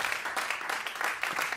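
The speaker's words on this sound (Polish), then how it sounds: "Wielkie brawa!" A brief burst of audience applause at a jazz quintet concert, many hands clapping in a dense, even patter at moderate distance.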